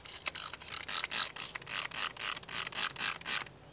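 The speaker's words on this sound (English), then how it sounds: "10 millimeter Allen wrench to open up those valves." A 10 mm Allen wrench turns the service valves on a Mr. Cool mini-split, giving a steady run of about a dozen quick, close ratcheting clicks in an even rhythm for several seconds, then stopping, with no talking.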